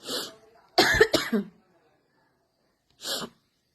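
A person coughs in close, harsh bursts: one brief cough, then a louder cluster of two or three, a long quiet gap, and a final single cough. No speech is heard.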